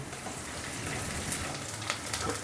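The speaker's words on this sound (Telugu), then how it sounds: "ఉల్లిపాయలు మరీ ఫ్రై అక్కర్లేదు మెత్తబడితే చాలా అనమాట ఒక నిమిషం పాటు వేపుకుందాం" Onions sizzle steadily in a hot pan, a dense crackling hiss with occasional brighter pops, continuous and close.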